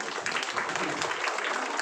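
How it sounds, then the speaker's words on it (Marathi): Guests at a 50th birthday celebration in Pune clap together in a dense burst of applause, with a voice speaking over the clapping. "व्यवस्थित उत्तरं दिली त्यांच्यासाठी टाळ्या वाजवूयात"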